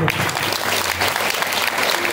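A crowd at a Bhagavat Katha religious discourse gives loud, sustained applause, an even roar of many hands clapping throughout with no pauses.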